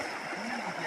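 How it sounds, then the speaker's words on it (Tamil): River in Theni running high and fresh after continuous rain, a steady broadband rush of flowing water with splashy gurgles, close and unbroken throughout. "ஸோ நீர் வரத்து அதிகமாக இருக்குது பாருங்கள்."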